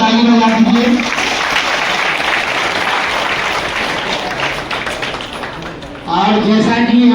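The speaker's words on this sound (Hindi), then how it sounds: "उनके लिए एक बार जोरदार ताली बजा दीजिए।" An audience at a women farmers' producer company annual general meeting gives a loud, sustained round of clapping lasting several seconds, with a speaker's voice just before and after.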